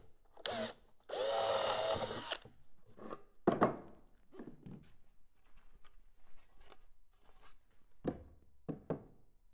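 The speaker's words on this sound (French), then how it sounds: "Nous préperçons uniquement la première planche de notre assemblage." A power drill pre-drills holes in a wooden board for a cabinet assembly, using a bit slightly larger than the screw diameter, giving one loud sustained whir between knocks and handling clatter.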